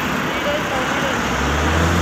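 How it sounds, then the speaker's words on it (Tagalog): Road traffic in Dubai makes a steady wash of rumbling engines and tyre noise, and a deeper vehicle drone swells in near the end. "My friend, what you will say about this traffic?"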